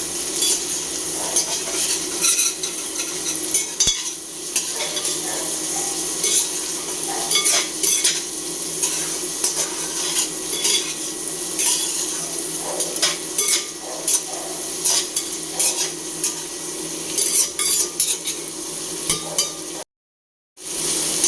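Vegetables fried with karfu fish fat sizzle steadily in a pan, broken by repeated scraping and clanking as a metal spatula stirs them close up, with a brief silent gap near the end.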